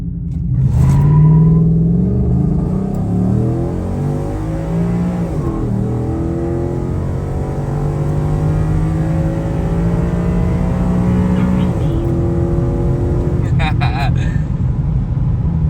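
A 2015–2017 Ford F-150 pickup truck accelerating hard, its engine roaring loudly and rising in pitch through several gear changes, with people talking over it.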